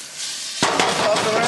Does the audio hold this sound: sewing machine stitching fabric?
no